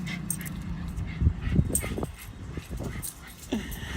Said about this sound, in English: This dog gets too excited.